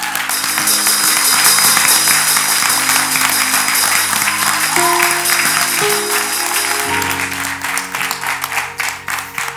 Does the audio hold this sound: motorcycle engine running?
no